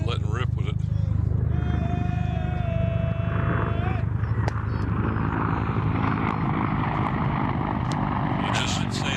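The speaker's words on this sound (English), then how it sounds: "that helicopter's a little bit on the low side. Went right across the field." A low-flying helicopter passes over a baseball field during a Bethel vs. Phoebus game, its rumbling rotor drone loud and sustained beneath announcer talk and crowd noise.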